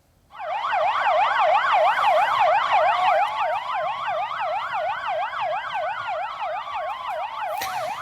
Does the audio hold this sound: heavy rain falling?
no